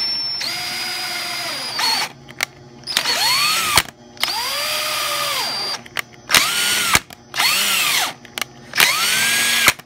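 An electric drill and tap cut into copper in repeated short bursts, each whining up and winding down with pauses between, loud and close.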